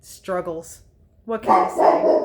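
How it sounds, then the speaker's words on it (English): A dog upstairs barks and growls, sounding muffled and somewhat distant, alongside someone talking nearby. "he's upstairs trying to bark and growl at them"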